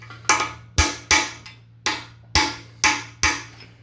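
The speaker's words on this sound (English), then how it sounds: "I take a larger hammer to get them started." Seven sharp metallic hammer strikes knock a plug into a Ford 289 engine block, ringing out one after another at an uneven pace, each blow decaying quickly, with a steady low hum underneath.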